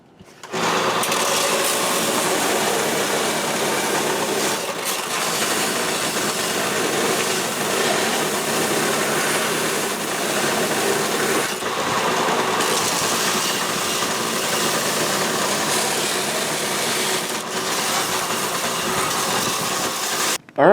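A belt sander trimming the lip off a scale model police car body, running as a steady, continuous whirring grind for about twenty seconds, close and fairly loud, with no talk.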